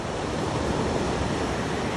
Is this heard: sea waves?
yes